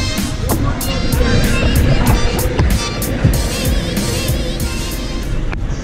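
A John Deere 9620RX tractor with a 620-horsepower 15-liter Cummins engine pulling a 2700 implement, its steady loud low rumble heard from inside the cab while people talk over it.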